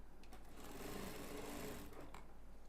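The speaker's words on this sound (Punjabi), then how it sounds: "ਇਸ ਜਗ੍ਹਾ ਤੋਂ ਸਲਾਈ ਲਾਉਣੀ ਸ਼ੁਰੂ ਕਰਾਂਗੇ" A sewing machine stitches a ghaghra skirt in one steady, continuous mechanical whir with no voice over it.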